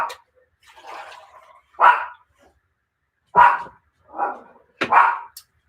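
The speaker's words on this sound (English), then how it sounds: "What are you barking at?" Several dogs bark in a loose, irregular series of sharp woofs, some louder and nearer than others, with short pauses between.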